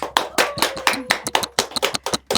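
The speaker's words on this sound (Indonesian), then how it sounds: "Boleh dong tepuk tangannya teman-teman." Clapping from a small group of students at a Universitas Merdeka Malang inspiration event, sharp separate claps in an uneven rhythm, close and fairly loud, with no voices over them.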